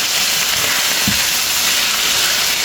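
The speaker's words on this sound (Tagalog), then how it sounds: "Gisa na po natin ang ating bawang at sibuyas." Garlic and onion sautéing in a hot pan, a loud steady sizzle with one brief stirring scrape partway through.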